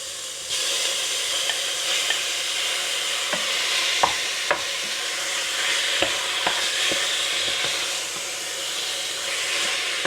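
Beef fries with garlic in hot oil in a pan, giving a steady, close sizzle and hiss with scattered crackles and clicks of stirring throughout, and no talk.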